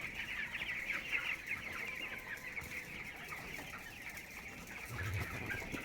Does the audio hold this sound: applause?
no